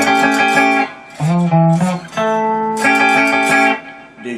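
A cigar box guitar with three strings strummed together, ringing chords played loud and close in several separate strums with sustained tones between them.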